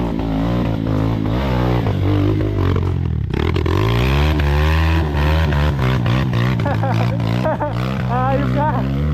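An MMC MX250 dirt bike revs hard on a mountain trail, loud rising and falling engine howls in repeated bursts with scraping and clatter, close and continuous throughout.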